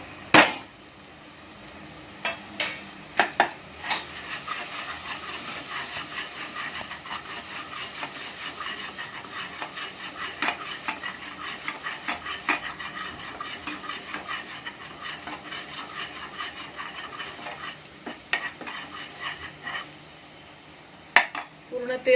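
Masala for brown chana masala is stirred and sautéed in a pan, with a soft steady sizzle under scattered metallic clinks and scrapes of the spoon against the pan, most of them quiet, a few sharper.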